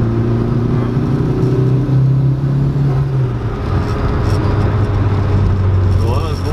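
A VW Lupo 1.8T with a GT30 turbo, rated at 335 PS, pulls hard through second gear. The engine drone is loud and continuous, and its pitch climbs steadily as the car accelerates.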